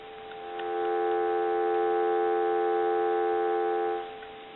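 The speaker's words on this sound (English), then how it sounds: "We'll go ahead and give you some dial tone." A steady telephone dial tone hums from a repaired duck-shaped phone, fading in, holding a constant pitch for about three seconds, then cutting off.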